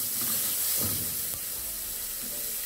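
Washed rice goes into a hot pan with oregano, giving a steady sizzling hiss with soft stirring scrapes and small bumps, close and continuous.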